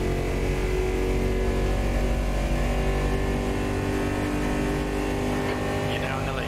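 Supercarts in a racing video game produce a continuous buzzing, revving engine drone, steady and loud with layered motor tones, while a voice speaks over it.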